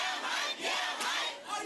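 A crowd cheers and shouts at the opening of a new community center in South LA, marking a coalition's 25th anniversary, with a dense, continuous wash of voices that is somewhat distant and quiet.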